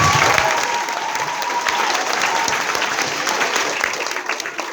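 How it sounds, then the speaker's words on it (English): An audience claps together in sustained, dense applause at an event, steady and fairly loud, easing off slightly toward the end. "Let's give everyone a round of applause."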